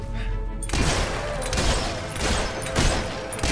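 Gunfire in Fable 3, loud broadband bursts from a gun fired repeatedly in close succession, several sharp blasts with swelling noise between them.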